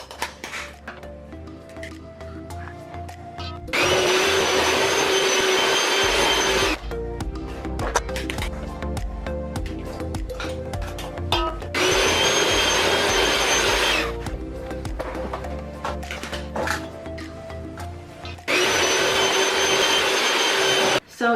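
An electric mixer beats eggs into cinnamon swirl bundt coffee cake batter, its loud, steady whirring motor starting and stopping in three long runs with quieter kitchen sounds between.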